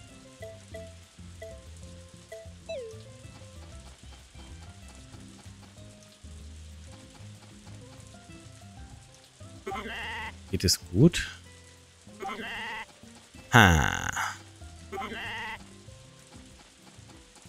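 Sheep bleating in the farming game Story of Seasons: A Wonderful Life, a few short loud bleats near the end over quiet game music, with someone talking.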